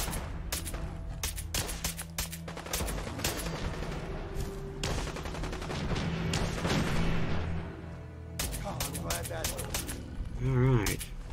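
Gunfire crackles in rapid, dense bursts during a video game fight against a couple of death claws, the shots near and loud and continuing almost without pause, with brief lulls between volleys.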